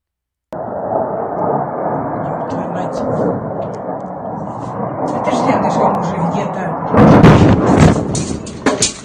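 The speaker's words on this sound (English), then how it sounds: "let's take a look at an absolutely massive explosion outside of Kharkiv" A massive explosion outside Kharkiv rolls out as a long, deep rumble, then swells into a louder, harsher roar late on. Crackling bursts sit on top of a distant, sustained boom.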